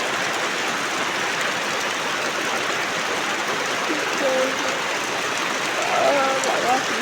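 Heavy night rain pours in a dense, even hiss that never lets up, with faint murmuring voices surfacing briefly near the end.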